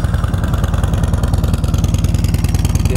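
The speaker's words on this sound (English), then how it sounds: "That's factory exhaust, so it runs pretty quiet." Up close, a Harley-Davidson Ultra Classic with its factory exhaust idles loudly with a rhythmic, lumpy pulse and no speech.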